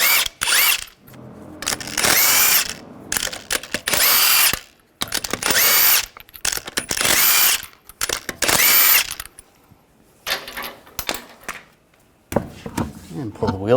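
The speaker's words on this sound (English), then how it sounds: "Use a 22mm socket, take the lug nuts off." A power tool with a 22mm socket zips lug nuts off the wheel of a 2015–2018 GMC Sierra 1500 in bursts: about half a dozen loud, whirring impact-gun runs of one to two seconds each, separated by brief quiet gaps, close by.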